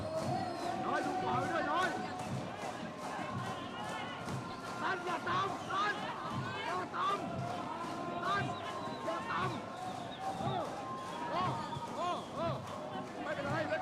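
Indonesian crowd at a cerebral palsy football match between Indonesia and Thailand, a loud sustained roar of cheering and chanting that fills the whole stretch, with pulsing rhythmic shouts rising and falling throughout.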